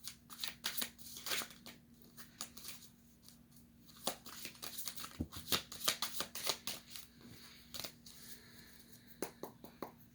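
Tarot cards being shuffled by hand, close and crisp, with repeated riffling bursts and soft slaps of the deck in irregular rhythm, no talking.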